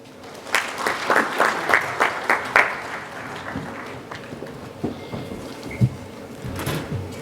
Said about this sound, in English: Once again, everyone, a round of applause as we come towards the conclusion of our inaugural session.